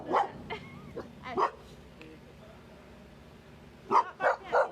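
A dog barks in short bursts near a bird feeder, a couple of separate barks early on, then a quick run of three or four loud barks at the end, with quiet background between.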